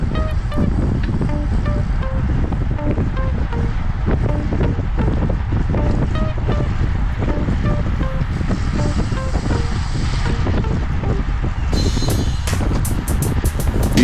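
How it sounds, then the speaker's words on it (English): Heavy wind buffets the microphone steadily while riding a bicycle at a fast pace into a headwind. It is a loud continuous roar with low rumble, and a few faint clicks and a brief hiss come near the end. "You hear the wind."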